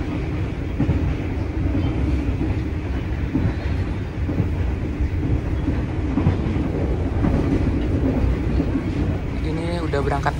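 From inside a business-class carriage of the Tegal Bahari passenger train, a continuous rumble and rhythmic clatter of wheels on rails fills the cabin at steady loudness throughout.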